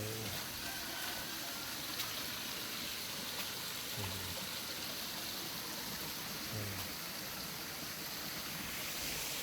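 Water flows steadily near a spot with goats and a pool-like basin, forming a quiet, continuous wash of broadband noise with no clear breaks, faint and distant throughout.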